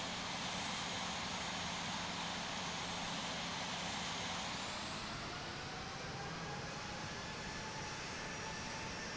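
Boeing 777-300 in the Infinite Flight game taxiing to parking at Sydney, a steady, faint jet engine whine and hum with a slowly shifting tone and no speech.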